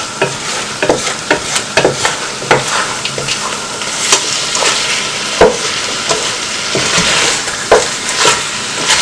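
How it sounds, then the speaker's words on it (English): Lamb coconut curry sizzles steadily in a frying pan while being stirred, with a dense, continuous frying hiss broken by frequent close scraping and clicking strokes of the spoon against the pan. "keep on stirring for the next 15 minutes or so"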